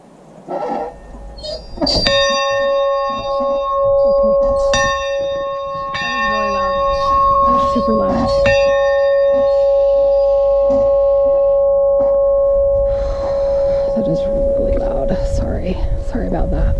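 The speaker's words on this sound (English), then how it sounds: "Is this the bell that I keep hearing?" The church bell of the Episcopal Chapel of the Transfiguration rings in repeated clear, ringing strikes whose tones hang and overlap. Faint voices murmur underneath in the open air.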